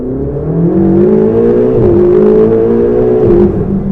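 A Ferrari 488 GTB's engine pulls hard in a tunnel, a loud, close, sustained drone rising steadily in pitch with a slight dip midway, echoing off the walls with no talk.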